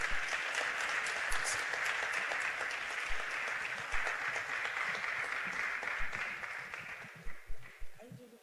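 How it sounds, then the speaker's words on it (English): An audience at a data conference applauds a team, giving sustained clapping that fades toward the end as a few final claps trail off. "Please, a round of applause for them."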